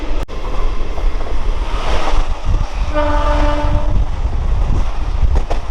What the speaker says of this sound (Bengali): প্রায় পাঁচ ঘন্টা জার্নি করার পর আমরা এখন প্রবেশ করছি শিয়ালদা রেলওয়ে স্টেশন